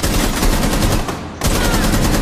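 Rapid automatic gunfire in Rainbow Six Siege, loud and continuous bursts that break off briefly and then resume.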